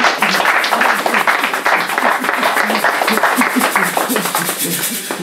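A church congregation applauds steadily and loudly throughout, with many overlapping voices calling and singing along with the clapping.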